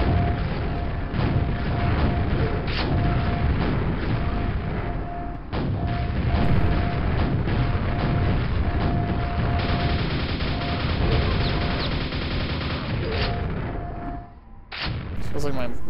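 Rocket launcher fire and explosions in the PC shooter Quake, running on Quakespasm: a continuous barrage of heavy booms and blasts layered with gunfire and mechanical clanks, with someone talking over parts of the action.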